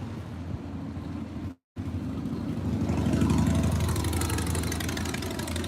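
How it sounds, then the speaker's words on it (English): A loud motorcycle engine runs on a street with a white car nearby, a steady mid-to-low rumble that swells slightly in the second half after a brief dropout, with no talking. "There's a loud motorcycle and a white car."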